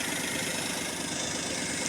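Car engine idling steadily after its throttle body hose was reattached: a continuous even mid-low hum with slight vibration, close and constant, no voices.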